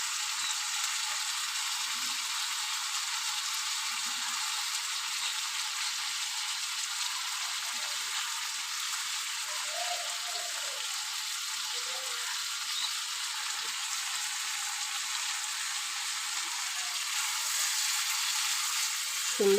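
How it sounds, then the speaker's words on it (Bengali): Shrimp fry with spices in a hot pan, giving a steady, even sizzle that runs unbroken for about twenty seconds with no talking. "চিংড়ি মাছটা ভাজাও হয়ে যাবে,"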